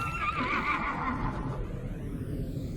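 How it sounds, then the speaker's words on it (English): A horse in Zelda: Tears of the Kingdom rears on its hind legs and neighs, the whinny slowed down in bullet time into a drawn-out, eerie descending cry that fades away over a few seconds. "the slowing down into bullet time will catch the horse's neigh as it stands on its hind legs"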